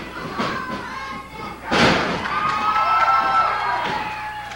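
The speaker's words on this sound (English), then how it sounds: "Listen to the crowd here in the Ohio Valley. They're screaming at Trailer Park." A wrestling crowd at an Ohio Valley Wrestling TV show jeers and yells at a wrestler, a loud sustained roar of massed voices swelling after a sharp thud, with scattered shouts rising above the din.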